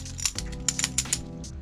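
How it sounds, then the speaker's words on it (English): Small wooden knockers clacking together in a quick series of sharp, close knocks, each piece with its own pitch and one noticeably deeper than the others, with no talking. "It's actually, I think it's actually wood, and they all have different sounds. This has a deeper sound than this one."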